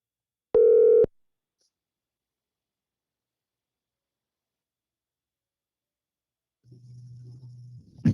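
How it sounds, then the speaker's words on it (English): A single loud electronic telephone tone sounds briefly during a Bluetooth call. Long silence follows, then a low, buzzing hum fades in near the end. "let me get Wes on the phone here."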